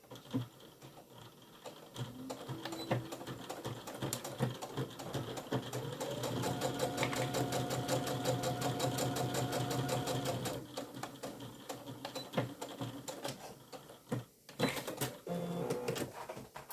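A sewing machine stitches a quarter-inch seam on a fabric tablet case, starting with short stop-start bursts of rapid needle chatter, then a longer steady run, then more brief bursts, all fairly quiet and close.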